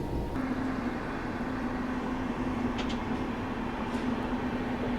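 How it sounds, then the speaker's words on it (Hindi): A train on an Indian railway line near Balharshah crosses by, a steady low rumble with a sustained hum that holds evenly throughout, heard close and fairly loud with no voices. "अब ये कौन सी ट्रेन क्रॉस हो रही है"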